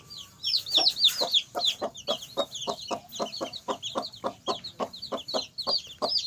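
Rapid high peeping of nine newly hatched chicks overlapping with a hen's soft repeated clucks in a steady rhythm, close by.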